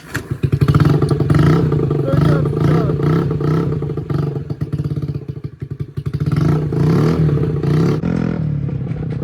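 A motor scooter runs close and loud with a steady buzzing drone, rattling and bumping as it rides loaded with fishing gear, speed rising and easing.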